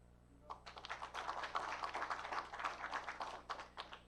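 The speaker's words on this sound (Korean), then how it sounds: "한 분 한 분 소개드릴 때마다 힘찬 환영의 박수를 부탁드립니다" Light scattered clapping from a small audience welcoming guests at the closing ceremony of an online citrus expo in Jeju, fairly faint and uneven, swelling briefly and then thinning out.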